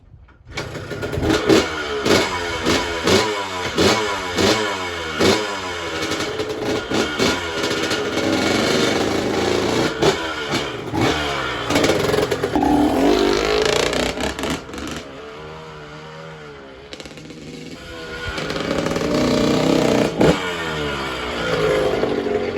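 A 1978 Yamaha YZ125 two-stroke motorcycle revs and rides past close by, its engine rising and falling through repeated throttle blips and gear changes, loud and continuous with no talking.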